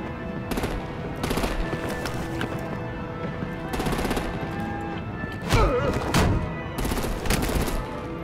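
Bursts of rapid gunfire rattle repeatedly and loudly in Batman: The Enemy Within, several separate volleys with short gaps between them, plus a few heavier impacts.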